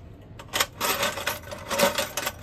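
An old tin full of big antique keys and padlocks is rattled and shifted, giving repeated bright metallic clinks and jangles in uneven bursts, close up and fairly loud.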